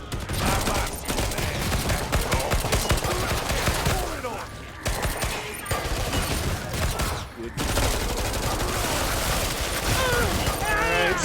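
Dense, continuous gunfire and explosions in the Christmas event of the shooter Killing Floor 2, rapid shots and booms running almost without pause, with brief drops in between and someone talking over the battle.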